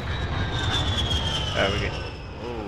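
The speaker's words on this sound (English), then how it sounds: "The helicopter spawned right on us, that's sick." Helicopter in the Battlefield 4 game flying low overhead, a loud steady engine drone with a whining tone that swells briefly as it passes, heard under short bursts of players talking.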